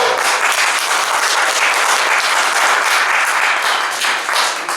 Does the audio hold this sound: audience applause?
yes